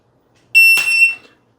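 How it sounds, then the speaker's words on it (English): A shot timer gives a single sharp electronic beep, clean and loud, lasting about half a second before stopping abruptly. A short thud comes right after it, with silence around both sounds. "when the beep goes off, I'm going to get a grip on my gun and slap the timer"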